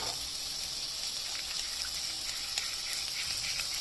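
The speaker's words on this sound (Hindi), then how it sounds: "इसमें थोड़ा सा पानी डाल के मैं ग्रेवी के लिए इसको तैयार करूँगी" Water is poured into a paneer batter to make gravy for chilli paneer, a continuous splashing trickle close by that runs steadily without pause.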